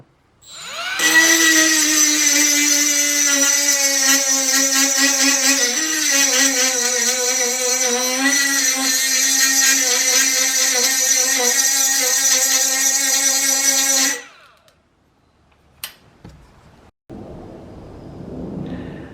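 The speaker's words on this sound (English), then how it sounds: "Yeah, and it cuts right through it. Yeah, and this is with a grinding wheel in it." Milwaukee M12 straight die grinder (2486-22) fitted with a grinding wheel cuts through metal, a loud close high-pitched whine held steadily for about thirteen seconds before stopping abruptly, followed by quiet handling noise.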